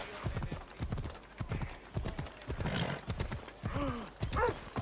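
Hooves of the horse Phobos in Assassin's Creed Odyssey, a rhythmic galloping clip-clop close by with a whinny near the end and someone talking faintly over it.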